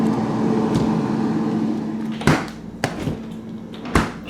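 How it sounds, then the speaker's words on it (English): Refrigerator doors on a 1982 GE side-by-side shutting, three fairly sharp thumps spaced about a second apart over a steady running hum. "Make sure all the doors are shutting properly."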